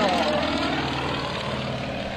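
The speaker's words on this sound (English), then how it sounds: "he's going to show you what this Yak-55 can do." A Yak-55 aerobatic propeller airplane performing at an airshow gives a loud, continuous engine drone whose pitch shifts slightly as it passes, with a commentator talking over it.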